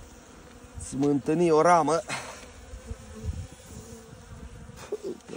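Honeybees buzz around an opened hive as frames are inspected, a faint steady hum beneath a voice speaking briefly.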